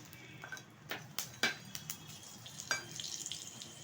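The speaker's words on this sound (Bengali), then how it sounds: "এখন তেলের মধ্যে ফোড়ন দিয়ে দিচ্ছি একটা তেজপাতা মাঝখান থেকে ছিঁড়ে, আর দিয়ে দিচ্ছি কিছুটা মেথি ফোড়ন।" A torn bay leaf and fenugreek seeds hitting hot oil for a Bengali shukto tempering, giving faint crackling sizzle with scattered sharp pops and spatters, close but quiet and without talk.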